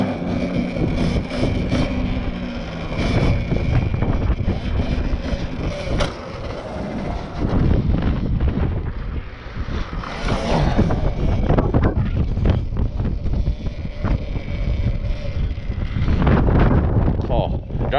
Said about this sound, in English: That was all wind.